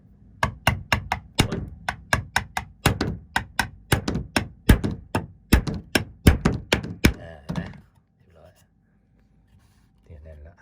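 Nail gun driving nails into wood while building a small shelf. It fires a fast series of loud, close thumps in an uneven rhythm, then stops, followed by quiet.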